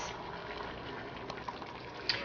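Lentils boiling in water in a pot for Afghan sticky rice, a steady soft bubbling hiss that goes on throughout, with a couple of small pops near the end.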